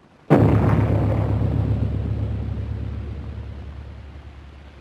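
A bomb dropped from an aircraft detonates in a single loud, sudden blast whose deep rumble slowly fades over several seconds.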